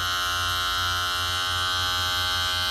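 An electric hair clipper motor buzzes steadily up close during a self-fade haircut, a strong, even, high-pitched drone with a faint pulsing underneath and no pauses.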